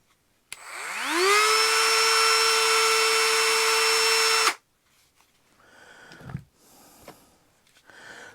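A Dremel rotary tool on an old 1.3 amp hour battery spins up with no attachment to a steady, high-pitched whine at full speed for a few seconds, then cuts off abruptly, followed by faint handling noises.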